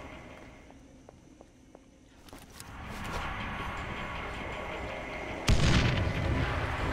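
Explosion in the Dead Island zombie game, most likely a grenade or bomb: a heavy, loud broadband boom bursts out late in the clip after a stretch of rising rumble and earlier soft knocks and footsteps.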